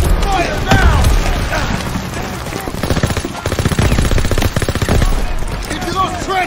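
Rapid gunfire from Call of Duty WW2 in a trench assault on AA guns along the Rhine, with dense bursts of automatic fire and single shots that run loud and continuous across the whole stretch, and a voice speaks over the shooting.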